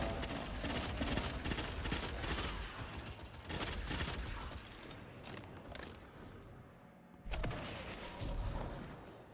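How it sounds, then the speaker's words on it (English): Dense bursts of explosions and rapid gunfire from a video game roll on almost continuously at a moderate level, briefly dropping off near the end before another blast and more firing. "I didn't think it had another couple explosions in it."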